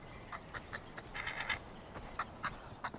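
A goose in the video game Far Cry 4 gives a run of short, faint, nasal honks at uneven intervals over low background noise.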